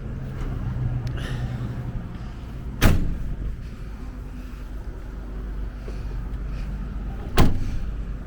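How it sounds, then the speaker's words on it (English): Two sharp, loud rear door slams on a 2017 Ram ProMaster wheelchair van, about four seconds apart, against a steady low engine idle and faint background rumble. "And then you can close the doors up."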